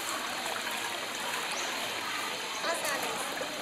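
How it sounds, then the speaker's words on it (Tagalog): Running water of a stream at a summer resort flows steadily and up close, a continuous broadband rush with trickling and splashing detail throughout. "Running water naman yan."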